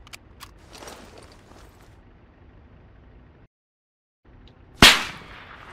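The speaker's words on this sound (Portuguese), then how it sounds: "Tô tomando tiro aqui, tô tomando tiro" A gunshot cracks out in an Arma 3 match on the Stratis map, a single sharp, loud report near the end. Fainter pops and faint movement sounds come before it, broken by a brief dropout to silence.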